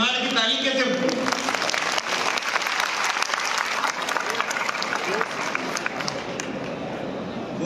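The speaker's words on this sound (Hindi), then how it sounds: "जरा सारंग जी को पता है निमाड़ की ताली कैसे होती है?" Audience applause at a public development-works event in Khargone, Nimar-style clapping: loud, dense crowd clapping sustained throughout, with voices mixed in.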